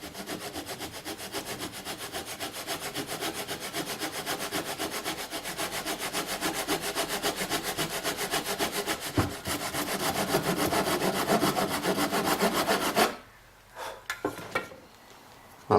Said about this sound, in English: I'm going to try and make that gap more uniform just with this little tenon saw